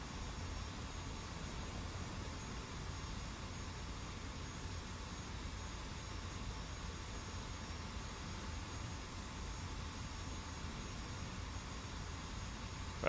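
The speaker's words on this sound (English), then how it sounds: "There's the Sabre flying a little bit too close." F-86 Sabre jet flying in the DCS combat flight game, a faint, steady broadband roar of jet engine noise that holds evenly throughout with no voices.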